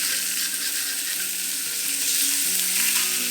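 Tofu fries in oil in a pan with a dense, steady sizzle and crackle, loud and close, with no voices over it.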